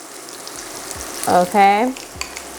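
Garlic butter sizzles on top of a cooked pork chop, a soft, steady hiss in the background. A person speaks briefly over it.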